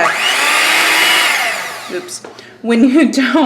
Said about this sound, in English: I'm going to mix this up with the mixer and then put the chocolate chips in